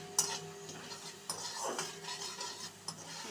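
Spices for a cabbage and potato curry, with turmeric, chilli, coriander and cumin paste, being stirred and sautéed in a pan: quiet sizzling broken by several distinct scrapes and knocks of the spoon against metal, with no talking.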